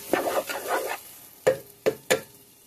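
Vegetables stir-frying in a pan for vegetable fried rice, heard as stirring scrapes and sizzle: a burst of busy tossing at the start, then three separate sharp stirs, near and alone without talk.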